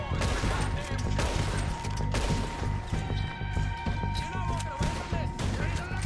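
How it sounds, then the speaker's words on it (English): Shotgun blasts in the video game Red Dead Redemption 2, a series of heavy, booming shots at an uneven pace over loud ongoing game noise. "Oh les shotguns sont énormes dans ce jeu."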